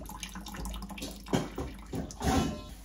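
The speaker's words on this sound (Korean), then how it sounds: "그렇게 딸기 씻는 거야" Water sloshes and splashes in a basin as strawberries are swished and rinsed, with a couple of louder splashes, close by.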